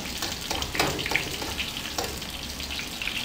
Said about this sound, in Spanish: Cuando usted eche la milanesita al sartén